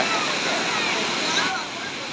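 The waterfall at Thirumoorthi hills roars as a dense, continuous rush of falling water, loud and close, filling the whole clip with steady broadband noise.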